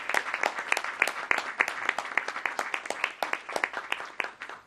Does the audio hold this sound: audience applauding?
yes